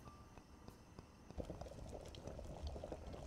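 Water coming to a boil in a pot on a stove in the brewing game Brewpub Simulator, a soft bubbling hiss that swells after a quiet start, with faint clicks and no voices.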